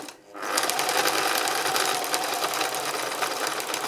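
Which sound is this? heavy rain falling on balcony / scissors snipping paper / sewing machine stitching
sewing machine stitching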